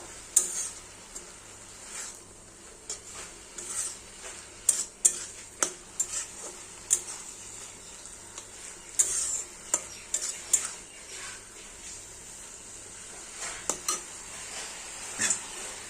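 Stalk greens are stirred in a pan with salt and turmeric. A utensil scrapes and clinks against the pan in an irregular rhythm over a faint, constant sizzle.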